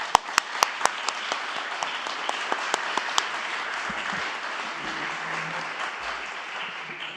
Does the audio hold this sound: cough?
no